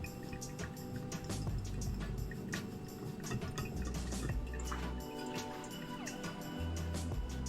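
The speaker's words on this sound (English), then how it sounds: "Three-and-a-half-minute drip coffee." Drip coffee brewing over a three-and-a-half-minute timer: a continuous wet trickle with scattered small drips and ticks, close and moderately loud, with no talking.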